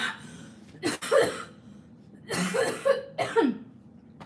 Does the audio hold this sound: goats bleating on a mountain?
no